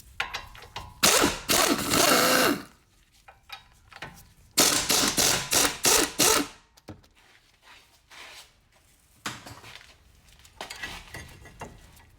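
Ratchet wrench loosening 21mm brake caliper bracket bolts on a 2006 Chrysler Town & Country, loud close bursts of rapid clicking in several runs separated by pauses and a few metallic clinks.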